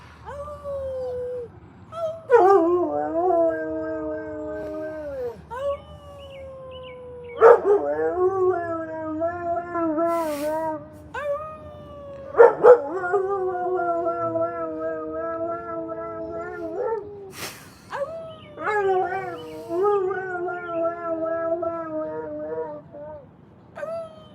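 A dog howls in long drawn-out wails, several rising and falling howls in a row with short yips and whimpers between them, close and clear outdoors on a nighttime walk, with no talk over it.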